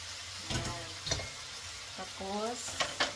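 Beef with noodles stir-fried in a pan, with bursts of sizzling and scraping as the ingredients are tossed, and a brief voice in between.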